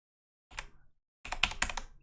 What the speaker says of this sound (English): Oh no, my keys aren't working.